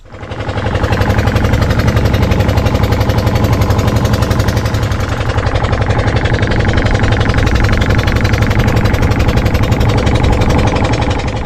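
A loud engine of a large boat runs continuously nearby at a river landing, a rapid rhythmic chugging throb that holds steady throughout.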